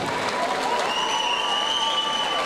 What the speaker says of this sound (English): let's have a round of applause for Ryan and for Joe.